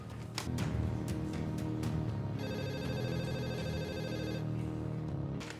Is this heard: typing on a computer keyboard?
no